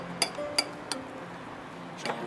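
A spoon clinks against a bowl while almond powder and cinnamon are stirred together. Four bright, ringing taps come at uneven intervals, close and clear over a faint room hum.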